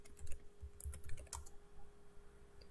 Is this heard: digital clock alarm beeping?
no